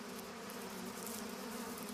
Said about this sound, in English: In early spring, the air is buzzing with male bees.